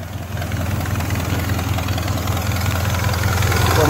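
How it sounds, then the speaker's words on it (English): A 1984 Grand Prix Brougham with a 305 engine and a small exhaust leak idles nearby, giving a steady, close, low rumbling drone with a fine rapid pulsing texture that stays even throughout and has no talk over it. "That little exhaust leak."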